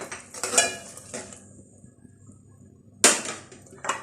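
Masala for chicken shami kebab with whole red chillies is stirred and roasted in a pan: a few close scraping, clinking strokes of a spoon against metal, separated by a quiet stretch.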